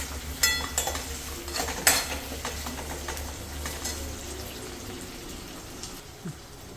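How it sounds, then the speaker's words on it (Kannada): Sliced tomato and onion cook in a pan, with a low sizzle under clinking utensil strikes and scraping stirs that are busiest early, then settle into a quieter simmering hiss; no one speaks. "ಎಲ್ಲ ಚೆನ್ನಾಗಿ ಫ್ರೈ ಮಾಡ್ಕೊಳ್ಳೋಣ"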